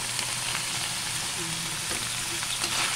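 Ground pork giniling sizzles steadily in a hot pan for a filipino ginisang patola, a continuous close frying crackle with brief faint stirring scrapes and no talking.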